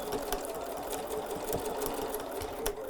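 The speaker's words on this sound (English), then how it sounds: "you'll cut your thread, lay that flap down, and begin to sew again." A sewing machine stitches bias binding onto fabric, running as a steady, close mechanical whir with rapid needle ticking and no pauses or voices.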